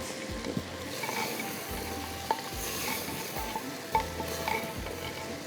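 Onions and vegetables sautéing in a pan for saag, with a steady sizzle under repeated stirring scrapes and a few light clinks of a spoon against the pan, no talking.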